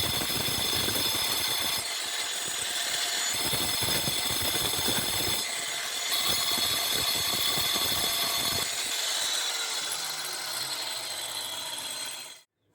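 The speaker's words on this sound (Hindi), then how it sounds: "तो चलिए अपनी इस ग्राइंडर मशीन से इन सभी के इस जगह पर होल करते हैं" A grinder machine bores holes in granite pieces, a loud continuous high whine with rough grinding bursts that runs steadily before cutting off abruptly at the end.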